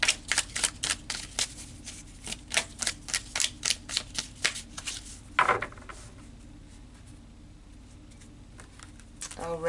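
Tarot cards being shuffled for a reading: a quick run of crisp riffling bursts during the first five seconds, then a softer final shuffle and quiet room tone, with no talking.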